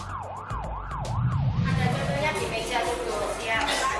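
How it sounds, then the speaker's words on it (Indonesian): Emergency siren sounded on Heroes' Day to make drivers stop for a moment of silence, a rising-falling wail repeating several times before giving way to mixed traffic and crowd noise. "Sirine juga dibunyikan untuk mengimbau pengendara agar berhenti sejenak untuk"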